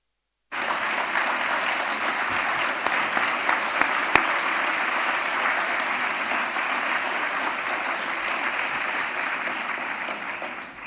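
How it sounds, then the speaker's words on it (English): Sustained applause from a large crowd at a panel discussion, dense and steady for about ten seconds after a brief silent start, with no voices standing out. "I hope you could see the applause there"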